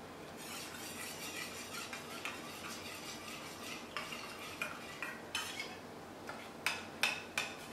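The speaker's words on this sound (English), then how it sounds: "Mix that all up." Spoon stirring black pepper, smoked paprika and party nuts in a bowl, with repeated scraping and clinking strokes that grow sharper toward the end, fairly close and quiet with no talk.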